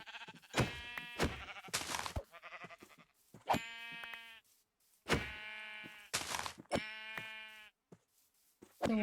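Sheep in the video game Minecraft bleat several times in a row, clear and close, with a few soft thunks in the quiet gaps between the cries.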